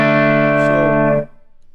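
An electric guitar chord played through a VTLD1 tube boost pedal rings out with a bright, sustained harmonic tone and then is cut off abruptly after about a second.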